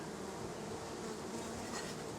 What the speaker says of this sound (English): Oh yeah, there's bees up there.